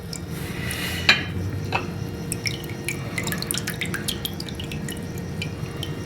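Tamarind pulp pushed through a metal sieve in a kitchen, with soft wet drips and light scraping clinks of a spoon against the mesh and bowl, steady and close.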